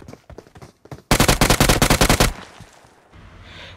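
Gunfire in the mobile game PUBG Mobile: a few quick single shots, then a loud rapid automatic burst of about a dozen rounds, followed by a fading tail.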